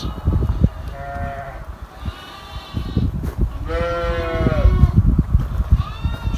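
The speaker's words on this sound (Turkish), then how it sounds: "Koyunlarını ve keçilerini gösterelim." Sheep and goats bleat inside a new barn, several overlapping calls of varying pitch rising above a steady shuffling and rustling background, fairly close and loud.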